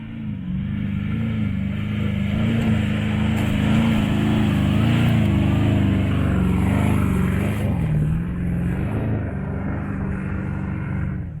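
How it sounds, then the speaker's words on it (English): A 4WD Toyota LandCruiser 200 series engine in the remote Australian desert droning loud and steady throughout, with its pitch dipping briefly near the end as the driver lifts off the throttle. "you hear him here taking the foot off the pedal for that split second, and then pretty much then stopped his forward momentum"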